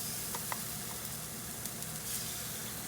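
Squid sizzling and frying in a hot pan for paella, a steady close crackling hiss with a few light stirring clicks and no talking.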